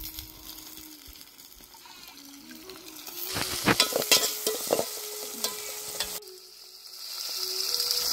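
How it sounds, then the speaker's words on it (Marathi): Fenugreek leaves drop into hot oil with frying garlic and cumin, a soft sizzle flaring into a louder crackling burst with stirring clatter, then settling into a steady hiss. "हे बघा आता मेथी टाकून घेत आहे."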